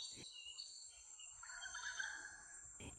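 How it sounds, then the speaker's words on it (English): Birds chirp and sing in a deep forest on a quiet morning, a faint, steady chorus of high thin calls with soft insect-like trilling underneath, heard from a distance without any talking. "Listen, I hear birds."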